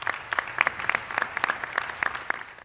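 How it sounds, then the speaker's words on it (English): An audience applauds at a shoe and sock donation drive in Pasco County, a brief burst of scattered, moderately faint hand claps from a small gathering. "huge round of applause for everybody"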